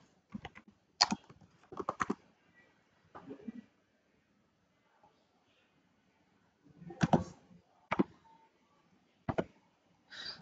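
Quiet keystrokes on a computer keyboard come in sparse clusters of taps separated by pauses, near and soft, with no speech.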